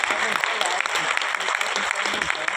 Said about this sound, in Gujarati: જોરદાર તાળીથી હું ઇન્વાઇટ કરીશ